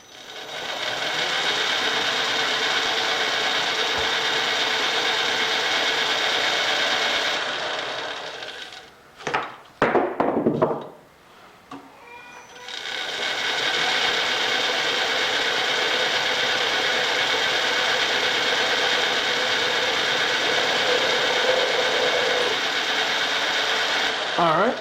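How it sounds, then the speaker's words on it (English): A metal lathe center drills a metal part for a pinch sleeve, giving a steady, close machining whir that breaks off briefly in the middle before running evenly again. "we're center drilled"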